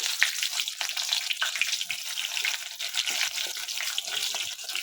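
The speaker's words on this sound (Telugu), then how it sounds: "ఇప్పుడు నూనె వేడెక్కింది, నేను ఉల్లిపాయలు వేసుకుంటున్నా" Sliced onions dropped into hot oil in a pan, giving a steady bright crackling sizzle that stays constant and fairly close throughout, with no talking.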